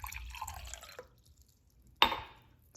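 Water being poured into a test tube during a lab experiment, a short liquid trickle that fades out, followed by a sharp glassy drip or clink, all faint and close with no talking.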